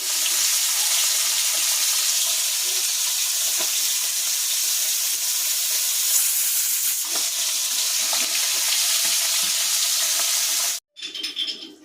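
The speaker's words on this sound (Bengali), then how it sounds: "তো প্রথমেই মাছগুলো ভেজে নিই।" Fish pieces fry in a pan with a loud, dense, continuous hiss of hot oil, close and steady, before the sizzle suddenly cuts off near the end and a few brief clatters follow.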